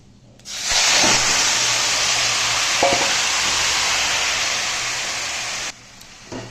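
Marinated chicken drops into a hot wok seasoned with cumin seeds and bay leaf and bursts into a loud, close sizzle. The sizzle holds steady for about five seconds, eases slightly, then cuts off.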